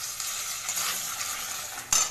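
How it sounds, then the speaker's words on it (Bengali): Whole bay leaves hit hot oil left from frying prawns, producing a bright hissing sizzle with a sharp utensil clink near the end and no speech. "ওই তেলেই আমি দিয়ে দেবো গোটা তেজপাতা"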